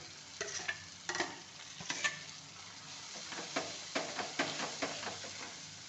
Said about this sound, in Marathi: ते आणखीन एकदा आपण तेलात ह्याला चांगलं भाजून घेऊया